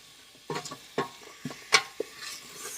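Ground meat browning in a pot for hamburger soup, a faint sizzle broken by a handful of spoon scrapes and clinks against the pot, close and otherwise quiet.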